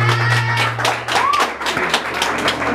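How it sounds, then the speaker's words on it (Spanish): Guests clapping and cheering at a quinceañera in Bogotá with a mariachi band, a steady wash of hand claps over a low hum, with a whistle-like tone and scattered voices mixed in. "El aplauso fuerte para Valentina"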